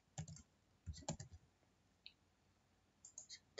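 Keys clicking on a computer keyboard as a member name is entered into a library application, with two short bursts of typing and a lone tap between them, close and fairly quiet, with no talking.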